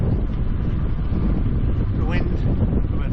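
Steady wind buffets the microphone while cycling along a road in a crosswind, a loud continuous rumble with no pauses.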